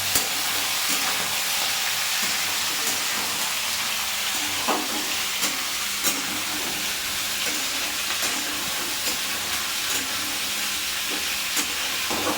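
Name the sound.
chopped vegetables added to hot oil, frying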